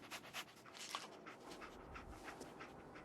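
The companion dog in the video game Fallout 4 pants softly in quick, rhythmic breaths, faint and close, with a few small whimpering sounds.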